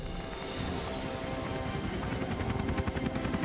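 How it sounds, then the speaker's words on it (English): Helicopter in the video game Hitman taking off, a steady loud rotor roar with a rapid chopping pulse that grows more pronounced toward the end, heard on its own without talk. "That is a really fast helicopter that took off really quickly."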